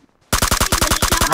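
Automatic gunfire in a first-person shooter video game, a rapid burst of about a dozen evenly spaced loud shots starting abruptly after a short quiet moment.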